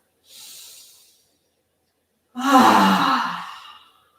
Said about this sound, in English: Huge cleansing breath.